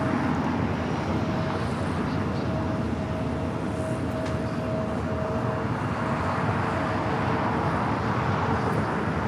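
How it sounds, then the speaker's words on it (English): An Eva Air Cargo Boeing 777 freighter touches down on the north side of LAX with a continuous broad roar of engine and rolling noise. The roar holds steady and fairly distant throughout, with a faint whine above it. "this is Eva Air Cargo 777 freighter touching down on the north side"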